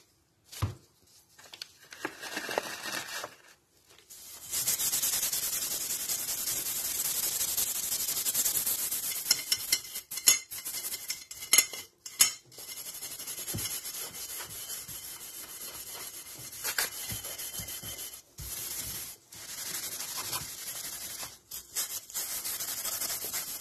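Wet steel wool scrubbing steadily along a gun barrel during cold bluing, a continuous close rasping rub with brief pauses and a few sharper scrapes, no talking.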